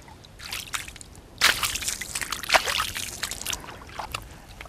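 A carp is let go back into river water with a run of close, irregular splashes and sloshes, including a sharp, louder burst partway through, then lighter trickling and dripping.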